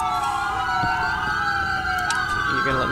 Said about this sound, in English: I'm gonna die from all these sirens.